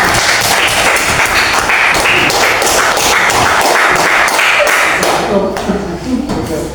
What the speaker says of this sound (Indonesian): selanjutnya tepuk tangan buat kita.